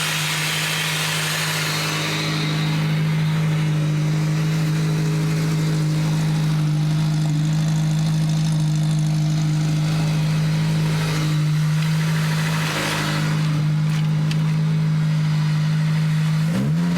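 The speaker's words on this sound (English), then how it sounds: "Intake noise. You can hear it sucking in the corner." A Ford SVT Focus mk1 engine idles steadily under the hood, and its CPT cold air intake gives a constant hum with an airy sucking hiss. Brief revs swell near the middle and toward the end.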